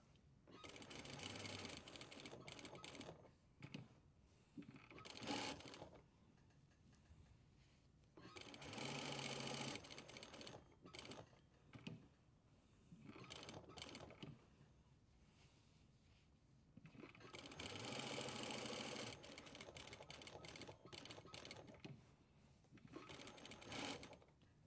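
Sewing machine edge stitching a flap and spade pocket, bursts of rapid needle chatter lasting a few seconds each, separated by quiet pauses for turning and back tacking, close and steady.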